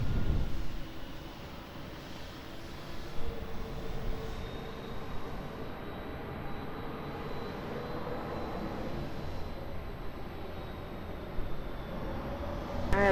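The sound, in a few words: airplane at Lisbon Airport, runway 20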